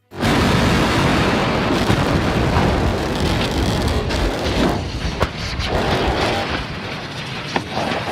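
A massive, roaring SpaceX rocket explosion rumbles continuously at full loudness, a broad blast that slowly tapers with crackling and booming aftershocks.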